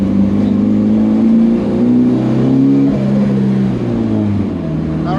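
A car fitted with uprated valve springs accelerates hard from inside the cabin, its loud engine note climbing through the revs and dipping briefly as it shifts before pulling again.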